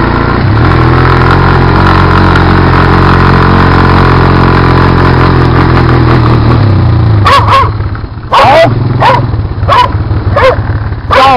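A Honda Recon ATV quad with worn-out steering idles and drones steadily in first gear while rolling down a steep mountain hill, loud and close, then several sharp dog barks break in near the end.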